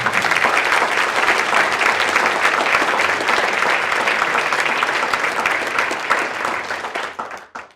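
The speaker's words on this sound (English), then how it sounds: "let's give them a round of applause" Sustained applause fills an awards ceremony hall, a dense, even wash of many clapping hands that holds steady for several seconds before fading out at the end.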